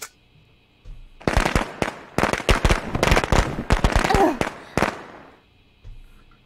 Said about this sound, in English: These old fireworks could definitely do the tricks.